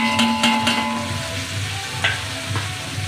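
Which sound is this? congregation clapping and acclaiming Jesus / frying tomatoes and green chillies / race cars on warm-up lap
frying tomatoes and green chillies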